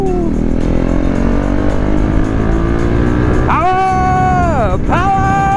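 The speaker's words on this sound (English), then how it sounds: "As much as single cylinder is my least favorite engine sound, but man, the feeling this KTM gives you is" KTM 390 Duke single-cylinder motorcycle engine revving hard under acceleration, a steady loud drone that climbs in pitch through the gears with sharp shifts near the end, with a rider's voice over it.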